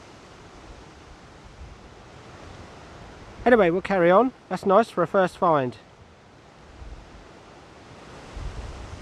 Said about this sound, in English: Hopefully you can hear me above this wind. Like I said, it's very windy today.